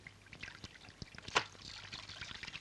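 Running water pouring and trickling, faint and somewhat distant, with small splashes and one brief louder burst partway through.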